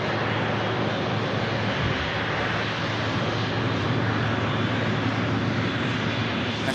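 A large jet airliner taxis out at Manchester Airport, its engines producing a loud, dense, unbroken roar that holds steady without any pause.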